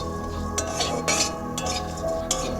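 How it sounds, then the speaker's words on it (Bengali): Whole spices, fennel seeds and dried red chillies being stirred in a dry pan for paneer yakhni, with a spoon scraping and clinking against the metal in several short bursts over a low background hum. "এটাকে বলে শুকনো খোলায় ভাজা মশলা।"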